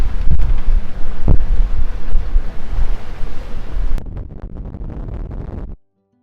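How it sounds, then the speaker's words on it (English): Loud, blustery wind gusts roar against the microphone on a sailboat amid rushing water and boat noise, then drop to a quieter hiss before cutting off. "Another gust coming."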